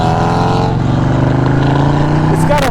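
A trike with a Volkswagen engine rumbles loudly at close range, a throaty, even drone holding steady before a brief voice cuts in at the end.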